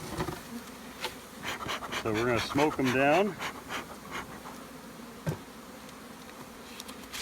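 Honey bees buzzing around a hive box while a beekeeper prepares a split from the original mother hive, a steady insect drone under close speech with a louder harmonic burst mid-clip.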